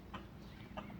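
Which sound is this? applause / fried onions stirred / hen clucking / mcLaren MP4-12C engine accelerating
hen clucking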